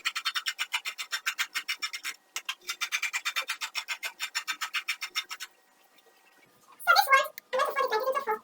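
Scissors cut net fabric into strips with rapid, regular snipping, paused briefly, then stopping as a voice briefly speaks near the end.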